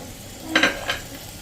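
Chana and urad dal dropped into hot oil for tempering give two brief, sharp sizzling crackles close by, with quiet between them.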